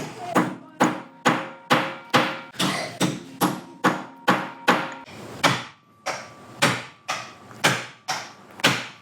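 An air hammer peens metal on bulldozer repair work, sharp metallic blows in a rapid, fairly regular rhythm, a dozen or more close, loud impacts with short ringing tails.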